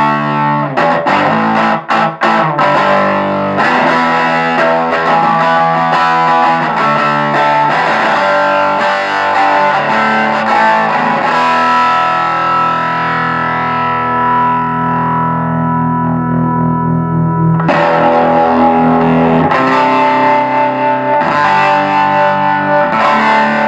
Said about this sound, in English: I'm going to play it just without the tremolo, cranked up a little bit with some power cores, so you can hear this. You can hear the breakup on this thing.